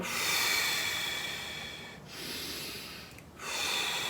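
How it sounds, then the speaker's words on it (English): Slow, deep breathing during a breathing exercise: long airy breaths in and out with brief pauses between, close and fairly loud, no talk. "So you're breathing in and"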